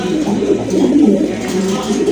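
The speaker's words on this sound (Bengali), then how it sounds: "আরেক জোড়া বোম্বাই কবুতর, এটা হচ্ছে আপনার ব্ল্যাক বোম্বাই কবুতর" Black Bombay pigeons, a breeding pair, coo loudly and close up in a continuous low, rolling murmur that lasts throughout.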